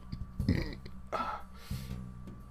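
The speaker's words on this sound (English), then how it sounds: "he puts down his little wooden cup and gives a slight belch" A slight belch from a man in a fantasy role-play setting, a short low gurgling burp near the start followed by softer throat and breath noises, close and fairly quiet.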